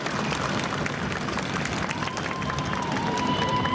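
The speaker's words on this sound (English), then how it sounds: "I request everybody to kindly clap." Crowd clapping at a political party gathering, a continuous loud mass of hands mixed with crowd noise and babble, with no pause.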